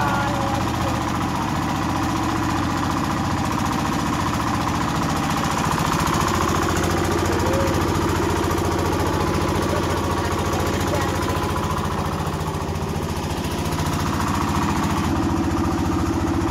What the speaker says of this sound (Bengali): বড় ভাই মেশিন স্টার্ট দিতেছে, দেখো দেখে লইও